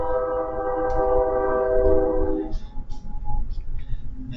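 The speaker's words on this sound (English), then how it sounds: "There's a train coming." A train horn blares a sustained, loud chord for about two seconds over low rumbling, then gives way to clattering rail noise and rhythmic clunks as the train passes close by.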